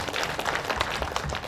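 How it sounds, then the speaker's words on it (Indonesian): Audience applause at a subsidized housing launch and MOU signing event for the Pilar Katumbiri team, steady dense clapping from a gathered crowd with a low rumble beneath. "Saya minta tepuk tangan untuk tim Pilar Katumbiri."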